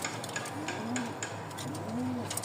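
Giribaz pigeons cooing nearby: two soft, low, rolling coos about a second apart, faint against a steady background hiss.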